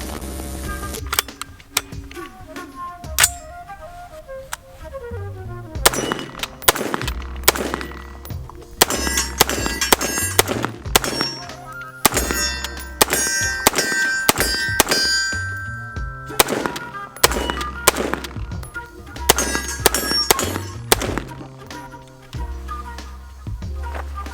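A Radical Firearms AR pistol fires a series of sharp, loud shots in irregular clusters separated by short pauses, each crack ringing with a metallic clank.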